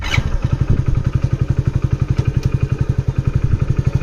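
A Hero Splendor+ motorcycle engine idles in gear with the side stand down, a close, steady single-cylinder putter of evenly spaced thumps, unchanging in pace and loudness.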